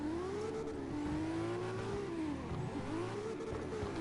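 Citroen car engine revving in the CarX Drift Racing video game, a loud continuous mid-pitched whine that rises and falls steadily across the whole stretch, alone without talk.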